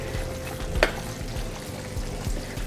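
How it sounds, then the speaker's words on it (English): Fish frying in a pan during a wild game cooking session, a steady low sizzle and crackle of hot oil with a couple of faint utensil scrapes, no voices. "Fish is frying up very"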